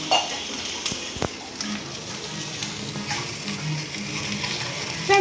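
A kuzhi omelette frying in a pan with a steady sizzle, plus a couple of sharp metallic clinks as it is flipped over, close and moderately quiet.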